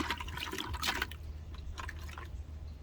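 Running water rinses freshly harvested vegetables, a close splashing trickle with drips and soft sloshing that continues through the whole short stretch.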